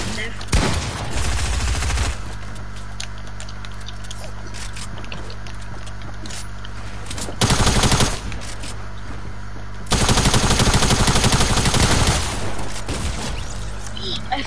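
Rapid bursts of automatic gunfire from a video game weapon, loud and close, come in three separate volleys with quieter game sounds between them.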